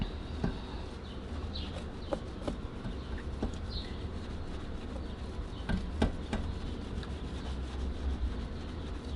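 A clay bar rubs across car paint with a gritty, sandpaper-like scratching. The strokes come close and steady and are punctuated by sharper scrapes over rough sections.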